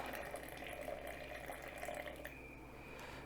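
Water pours steadily into a sourdough starter on a scale, a faint continuous trickle with slight splashing that thins toward the end.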